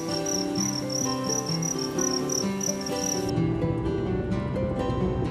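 Crickets chirp in a steady, regular pulsing trill, loud and close, with a busier layer of insect and background noise joining partway through.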